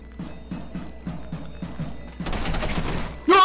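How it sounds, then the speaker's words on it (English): Rapid burst of gunfire in the horror video game Content Warning, a loud dense volley erupting after a stretch of quieter rhythmic sounds, ending in a sharp bright outburst. "He started shooting at me."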